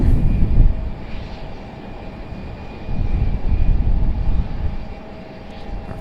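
A jet airliner climbs steeply away from Raleigh-Durham International Airport, a distant, moderate engine roar that swells, eases, then builds again, heard from outdoors without talk.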